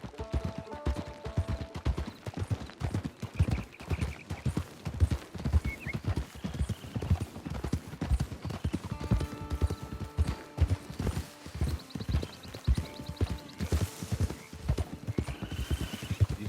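Horse hooves clip-clop at a steady trotting rhythm in the video game Red Dead Redemption 2, close and continuous throughout, with occasional soft tonal game sounds layered above.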